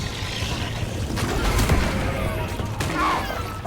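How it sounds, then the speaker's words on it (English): An exploder enemy blows up in the Deep Rock Galactic video game with a sharp, heavy blast amid dense, continuous gunfire and clatter in a loud, busy combat mix. "that explosion I heard was an exploder"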